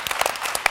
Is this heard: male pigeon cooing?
no